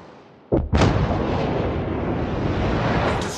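A heavy explosion as an enemy battleship is destroyed in the naval video game Destroyer Academy: a sharp double blast, then a long, loud roaring rumble that slowly fades.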